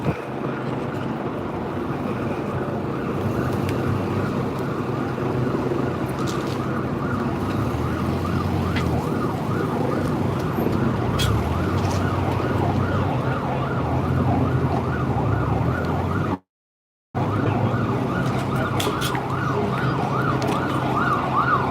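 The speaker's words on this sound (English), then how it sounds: "Fire truck." A fire truck siren wails steadily in a Hong Kong street, its rising and falling tone loud and continuous under wind noise, with a brief dropout near the end.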